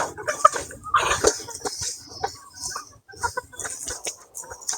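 Chickens cluck and squawk in short, scattered bursts close by inside a fenced village poultry compound in Konkan, with rustling and shuffling around them.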